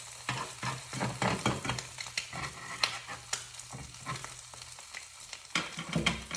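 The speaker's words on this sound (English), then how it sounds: "now that the egg is cooked on the bottom, you're gonna take your spatula and get all the way underneath it, and then you're gonna flip it inside the pan" An egg sizzles in a frying pan just after being turned with a spatula, with steady crackling frying noise and repeated sharp scraping and clinking of the utensil against the pan throughout.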